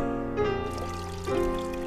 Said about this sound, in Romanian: Scurgem cât mai bine apa, având grijă să nu risipim semințele prețioase de orz.